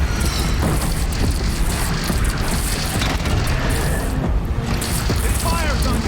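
Heavy cannon fire from a platform-mounted turret in Horizon Zero Dawn, a continuous dense rumble of booms and crashes with game effects, loud and sustained under a speaking voice.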